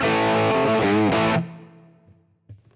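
A distorted electric guitar plays a sustained chord with bending notes, then rings out and fades before a faint new strum.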